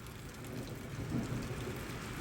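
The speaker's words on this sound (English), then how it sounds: "We clearly don't care about rain" Steady rain pours down at an outdoor horse show, a dense continuous hiss that swells slightly midway with occasional low rumbles beneath, no voices over it.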